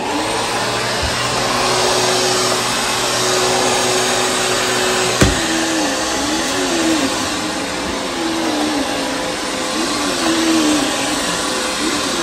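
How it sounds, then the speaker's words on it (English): A vacuum cleaner runs continuously and loudly, a steady broadband roar with a brief bump midway and a faint shifting whine. "We're vacuuming Dad's office."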